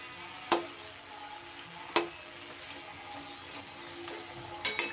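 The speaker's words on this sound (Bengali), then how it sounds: "এগুলোকেও একই রকমভাবে নাড়িয়ে চাড়িয়ে ভেজে নেব" Snacks made from peas and flour fry in hot oil with a steady soft sizzle, punctuated by a few sharp taps of a spatula against the pan as they are stirred, close and fairly quiet.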